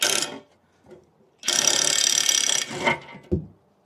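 A ratchet wrench works a T45 bolt on a fender strut, with a short burst of clicking, a longer run of rapid ratcheting, then a few quick final clicks close by.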